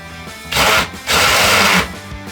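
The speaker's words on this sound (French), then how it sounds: "je fraise les emplacements des vis qui tiennent les tubes pour qu'elles ne soient plus visibles" A power tool countersinks screw holes for tubes in a DIY skateboard bench, two loud whirring bursts close up, the second longer, with a short pause between them.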